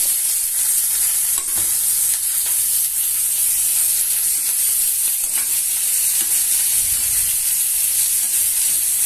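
Dried red chilies, curry leaves and onions frying in hot oil give a steady, dense sizzle and hiss that lasts throughout, with faint stirring scrapes now and then and no talking.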